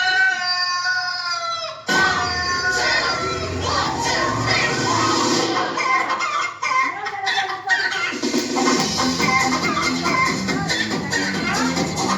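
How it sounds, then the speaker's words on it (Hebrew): Rooster at a busy market, its clucking and crowing mixed into loud crowd noise and shouting children, with people talking throughout. "שלום לך תרנגול."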